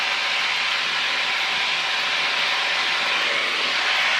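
A light aircraft's piston engine drones steadily in flight over mountains, a loud, unbroken, even roar filling the whole stretch with no voices.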